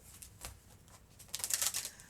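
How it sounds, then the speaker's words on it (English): A deck of playing cards being shuffled, a soft riffling burst that swells to a louder, dense flutter toward the end, close by with no talk. "now I'm going to shuffle the shit out of them again"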